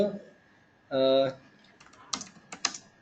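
Several light keyboard taps on a computer keyboard during a coding session, sparse clicks near the end after a short burst of voice earlier, fairly quiet and close.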